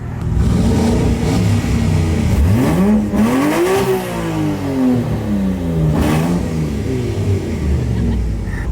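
A widebody Evo X engine revving hard, its pitch sweeping up sharply then sliding down over several seconds, loud and close with a steady mechanical roar underneath.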